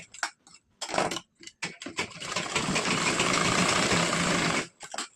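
A sewing machine stitches the shoulder seam of a princess-cut blouse, running in short bursts at first and then whirring steadily for about two and a half seconds, close and clear.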